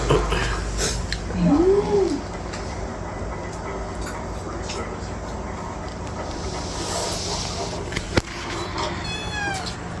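A cat gives one short meow early on, fairly faint against steady outdoor background noise, followed by scattered knocks and a brief sharp click.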